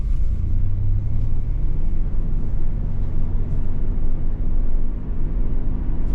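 A second-generation Toyota 4Runner on a test drive after pitman arm work, its engine and road noise forming a steady, loud low rumble throughout, with no talking.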